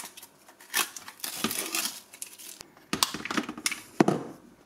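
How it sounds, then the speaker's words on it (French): Adhesive tape being peeled and torn off the plastic water reservoir of a Lidl SDM 1500 steam mop, a run of close, crackly ripping bursts with short pauses between pulls. "Il y a du scotch à retirer."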